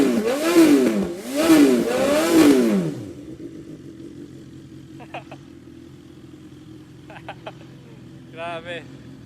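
BMW S1000XR motorcycle revving hard at roughly 6,000 to 12,000 RPM through a valve-controlled exhaust, three loud rising-and-falling revs up close, then a settled idle with a few faint clicks and brief chirps.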